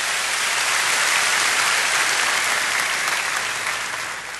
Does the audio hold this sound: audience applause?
yes